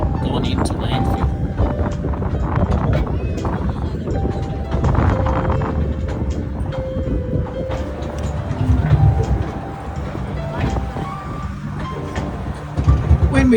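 A solar powered train rolls along its rails, a steady rumble with rhythmic clacks and rattles and faint tonal whines, with a voice talking over much of it.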